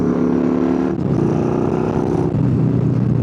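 A Yamaha Bolt motorcycle engine on a canyon road rumbles loud and close, its low throbbing note dipping briefly twice as it drops through a quick downshift under braking.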